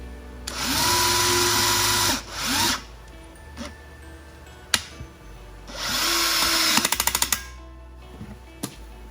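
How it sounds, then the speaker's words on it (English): A power drill whirs in two long bursts with a pause between, the second ending in a rapid ratcheting clatter as it pulls a band clamp tight with a Bandit CP4000D clamp tool. "you will use the trigger on the drill to actually pull the band tight."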